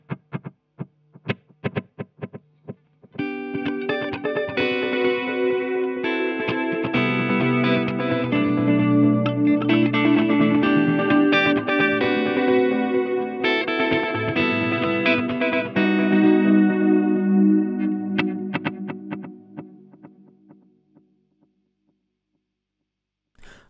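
Electric guitar runs through a TC Electronic Alter Ego X4 delay set to quarter and dotted-eighth repeats: a few sparse plucked notes, then dense ringing chords whose echoes pile up and wash together before fading out.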